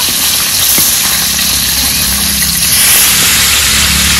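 Food frying in oil for a Bengali mango dish gives a loud, continuous hiss and crackle that stays steady throughout, close by and with no talking over it.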